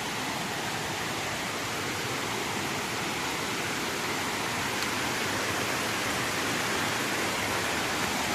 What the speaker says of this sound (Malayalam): ഒരു വെള്ളച്ചാട്ടം കേട്ടോ, ഇങ്ങനെ വരുന്നതാണ്.